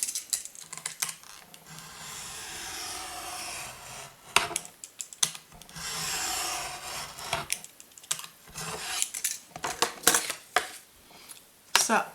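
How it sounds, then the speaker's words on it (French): A blade cuts cardboard for a handmade customised notebook, giving rough scraping strokes with clicks and taps of the tool and material, close and fairly quiet, repeated in several passes. "On va couper là également."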